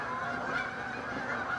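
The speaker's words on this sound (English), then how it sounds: "here come the ducks. the geese. The geese. Geese." A flock of geese flying overhead gives a continuous chorus of overlapping honks, fairly faint and distant, steady throughout with no pauses.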